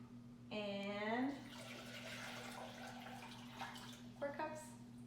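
Filtered tap water from a faucet runs and pours into a container for hummingbird nectar, a short splashing burst followed by quieter flowing, with brief speech over a faint steady hum.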